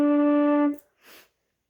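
Low D below the staff on a flute, one clear sustained tone held under a second before stopping, followed by a faint breathy sound.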